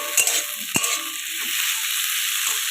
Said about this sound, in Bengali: আদাটা আমার ভাজা হয়ে গেছে